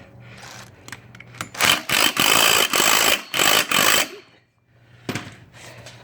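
Impact wrench bursts loosening the speed collar on a Kawasaki KFX90 ATV: a quiet mechanical lead-in, then several loud, close, rattling hammering blasts in quick succession, ending in a short pause and a softer final burst.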